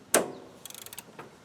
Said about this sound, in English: I got my extendo ratchet here from Harbor Freight.